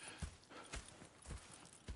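Horse hooves clip-clop in a steady walking rhythm, close and fairly quiet, in Red Dead Redemption 2, with no voices over them.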